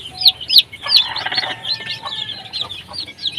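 Hens cluck close by while many young chicks peep in high, rapid chirps during feeding on a poultry farm, overlapping calls in short bursts.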